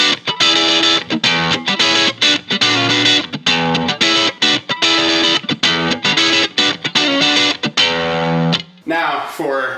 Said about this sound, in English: I can just put back in the Greer Lightspeed.